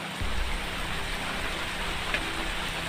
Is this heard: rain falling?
yes